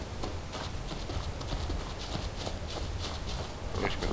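Horse hooves clip-clop in Skyrim, a steady walking rhythm of quick, moderately close hoofbeats at low level over ambient game sound.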